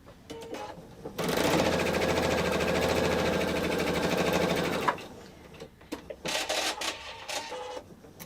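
A sewing machine stitches quilt block pieces together in a rapid, even run of about four seconds, with faint talk and handling noise before and after.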